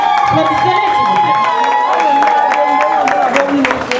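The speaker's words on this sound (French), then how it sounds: "Applaudissez-les, s'il vous" A crowd applauds and cheers loudly, dense clapping carrying on steadily with voices mixed in the noise.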